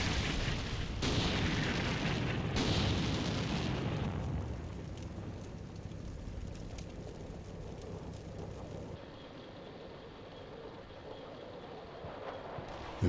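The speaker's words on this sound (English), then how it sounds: "Back on the right, we use artillery to force a passage." Artillery fire in the war game Combat Mission Black Sea, heavy rumbling blasts loud at first, then a long fading roar that thins into quieter background noise.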